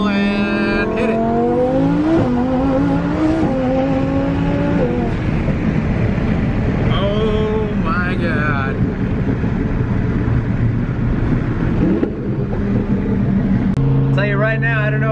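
A twin-turbo Lamborghini Huracan revs hard and accelerates up through the gears, engine pitch climbing and dropping with shifts, turbo whooshes and crackling exhaust pops, while someone talks over it.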